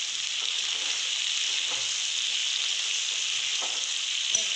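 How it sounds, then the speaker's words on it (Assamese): Onions fry in a pan, giving a steady, close sizzle that holds even throughout, with a faint utensil clink near the end and no voices. "চাওক মই এতিয়া পিঁয়াজখিনি ভাজি আছোঁ"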